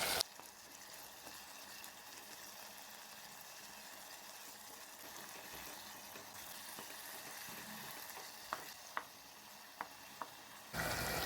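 Steady soft sizzling of tomatoes frying over low heat in a pan, with a few sharp clicks of a spoon near the end.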